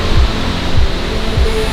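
A waterfall sends down a steady, loud rush of water, a close, continuous broadband roar with soft low thumps recurring every half second or so.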